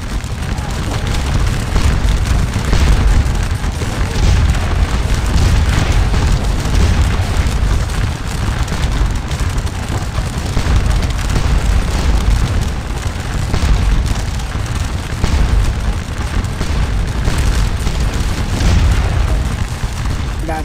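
A battle rages in Scourge of War: Waterloo near Papelotte, with loud cannon booms and dense firing. The rumbling blasts pile on each other without pause throughout, and a voice is faintly present underneath.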